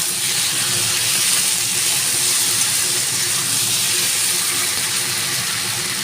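Taro and potato frying in a pan with ginger, garlic and spices, a loud continuous sizzle and hiss that holds steady throughout.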